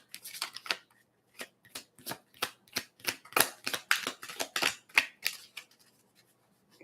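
Playing cards are flip shuffled in a long run of crisp, rapid riffling bursts and flicks, close and fairly quiet, with short gaps between the clusters and no talk.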